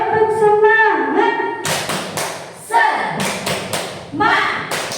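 A group of women performs a rhythmic clapping chant, bursts of sharp, close claps alternating with voices chanting in unison, loud and energetic.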